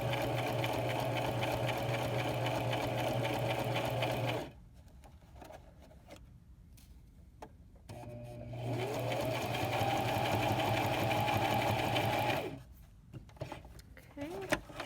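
A sewing machine stitches a fitted fabric face mask in two steady whirring bursts of about four seconds each, close and loud, separated by quiet pauses with light handling clicks.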